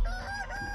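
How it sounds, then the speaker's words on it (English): A giant chicken in the video game Chicken Feet: Breakout DLC gives a brief, loud, strained call, alone and lasting under a second. "Oh, there's that chicken."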